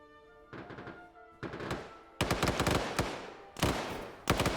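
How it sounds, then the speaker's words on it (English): A PKP machine gun in the military game Arma 3 rips off several sharp, loud bursts of automatic fire separated by short pauses, growing heavier toward the end, with no talking over them. "PKP just opened up on Yanni, hit him a few times. That gunfire is going to make at least one squad respond to it."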